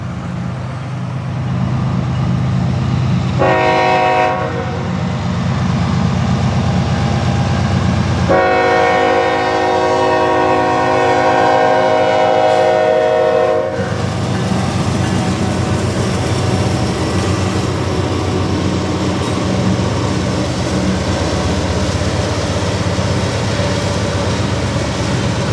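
Eastbound freight train 16N on the Fort Wayne Line east of Alliance rumbles past at close range, its horn sounding in two loud blasts, a short one and then a longer chord, over continuous wheel and engine roar.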